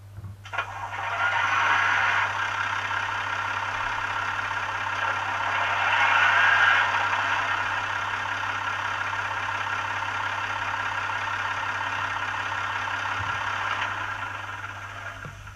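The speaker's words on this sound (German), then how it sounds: "F1 Motorsound." Diesel railbus engine sound from a PIKO H0 Expert model's sound decoder, a steady idling mechanical drone with a low constant hum, running continuously for the whole stretch with a slight swell partway through, no talk.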